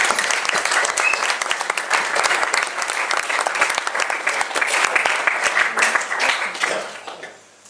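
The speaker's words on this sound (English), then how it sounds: "Perhaps we can show an appreciation and give them a clap." Sustained applause from an audience at a Sea Cadets mess dinner honouring the cadet leaders, dense clapping holding steady for several seconds before fading out at the end.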